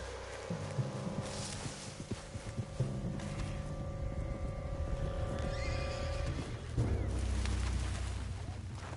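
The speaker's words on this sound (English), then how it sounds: "What's got this horse spook, huh?" A horse whinnies and neighs in Red Dead Redemption 2 over a dense game soundscape with rumbling and hoof clatter, loud and close throughout.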